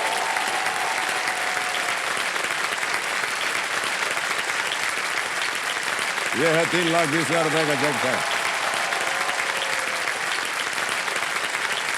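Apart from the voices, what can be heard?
studio audience applause for a quiz contestant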